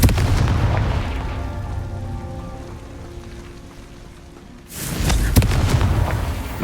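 Confringo blasting-spell explosions in the video game Hogwarts Legacy: loud, crackling bursts with heavy low rumble, a dense blast at the start fading into a quieter tail, then a second sharp eruption near the end.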